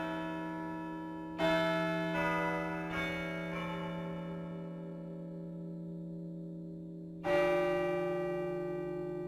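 A single church bell tolls one o'clock, a lone ringing stroke followed by a long humming decay, with a second strike arriving later, heard quietly in a calm, otherwise still night setting.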